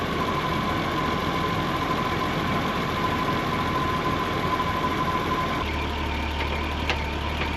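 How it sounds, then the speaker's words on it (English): AC compressor of a 30-year-old BMW car running under the hood: a steady engine idle drone with a sustained hum, joined near the end by a deeper heavier tone as the load shifts, close and without speech. "compressor kicked on."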